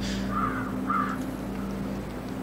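Two short caws from a crow in the puzzle game Antichamber, close together near the start, over a steady low ambient hum, with no voices.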